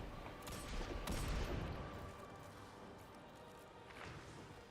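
Gunfire in the Destiny 2 video game sounds as a burst of rapid shots with thumping impacts early on, then a quieter stretch and one more short flurry near the end.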